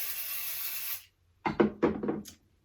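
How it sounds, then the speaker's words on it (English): A sustained hiss of spray for about a second, then a pause followed by a few short rubbing or handling noises nearby. "I use some spray adhesive on my stabilizer here."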